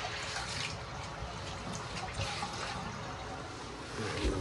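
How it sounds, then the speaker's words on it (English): Running water rinses a bathtub during cleaning before resin refinishing, a steady close splashing wash with small irregular drips and spatters, no voices. "Give the final rinse down on it."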